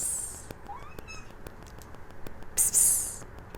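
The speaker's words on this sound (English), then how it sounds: "She meows at you when she wants to play" A one-year-old pet cat gives a short, faint meow early on, then a brief louder higher-pitched cry near the end, with no talking.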